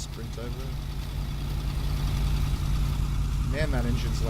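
A loud car engine idles in the video game Kona, a steady low rumble that holds from start to finish, with a brief voice partly masking it.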